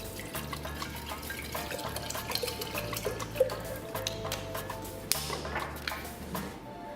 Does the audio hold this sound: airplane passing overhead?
no